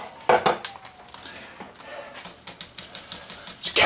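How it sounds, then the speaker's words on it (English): A whisk works roux into a pot of seafood, sausage, corn and potato chowder, first with scattered scrapes, then with a quickening run of sharp metallic taps against the pot, close by with no talk. "And I'll whisk it in gently."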